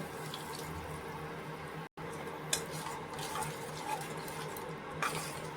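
Water running and splashing into a pan after a mixer grinder jar is rinsed out, a steady broadband trickle with a few clinks, close and continuous for several seconds apart from a brief cut.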